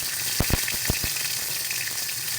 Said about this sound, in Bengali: তেলের মধ্যে দিয়ে দিচ্ছি সাদা জিরে